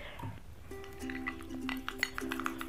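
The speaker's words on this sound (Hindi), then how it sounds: "मिक्स इट वेल, जिससे इसकी कंसिस्टेंसी बहुत अच्छी सी बन जाए।" A spoon stirs face pack paste in a small bowl, giving a quiet series of light clinks and scrapes against the bowl with faint ringing tones, close and steady over a few seconds, no talk.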